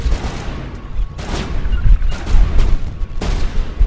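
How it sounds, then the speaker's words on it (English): Gunfire from Commander Shepard's weapon in Mass Effect 1, played with mods: a rumbling stream of rapid shots with several stronger bursts spaced about a second apart, loud and close with no talking. "Shepard is missing all of her shots here"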